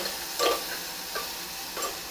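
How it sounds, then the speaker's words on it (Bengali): A few scraping stirs of a spoon in a pan of mustard paste, three short strokes spaced apart over a faint low sizzle. "মিক্সড করে এটাকে একটু ভেজে নেব"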